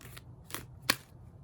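Large oracle cards being shuffled, three quick soft riffling swishes, the last one sharpest, close and quiet with no voices.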